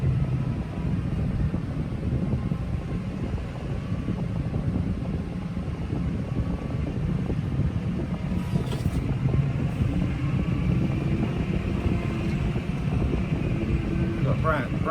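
A brand-new Claas Lexion 7600 combine harvester runs with a steady, broad mechanical drone and fan-like rush, loud and continuous throughout, with a person talking over it.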